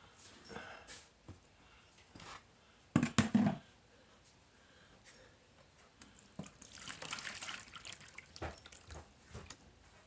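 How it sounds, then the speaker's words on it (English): Silty water concentrate poured from a container into a pan: quiet trickles and drips, one sharp splashy burst, then a longer steady pour of running water, all fairly faint. "Pour this off into a pan."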